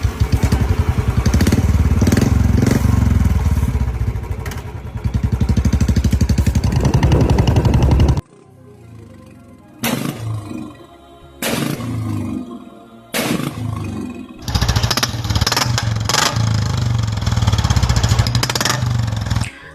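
A modified Royal Enfield Bullet motorcycle with an altered silencer, revving loudly in bursts with sharp firecracker-like exhaust bangs and roars, a long continuous stretch followed by several separate blasts with quieter gaps.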